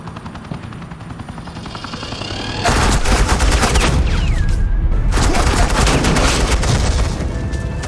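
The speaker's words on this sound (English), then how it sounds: "Suppressing fire." Heavy sustained gunfire in the video game Batman: The Enemy Within, bursting in loudly after a quieter stretch and continuing as dense, rapid suppressing fire for several seconds without speech.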